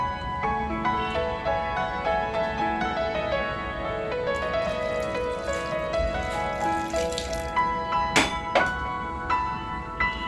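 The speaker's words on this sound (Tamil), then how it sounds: "கரெக்டாக ஒரு நிமிஷம் ஆனதும் தண்ணியை வடித்து தனியாக எடுத்து வச்சுக்கோங்க" Soaking water is poured off pearl millet vermicelli in a home kitchen. A steady trickling splash runs throughout, with a couple of sharp clinks near the end.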